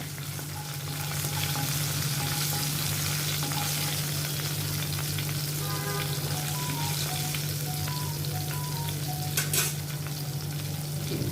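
Chopped green chili sautéing in a pan for masala bread, a constant loud sizzle and crackle with a low hum beneath and a few light stirring scrapes near the end.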